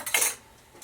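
Two spoons coated in honey and bacon grease clink against a cooking pot during chili preparation in a tiny house kitchen, one quick bright metallic clatter, close and brief.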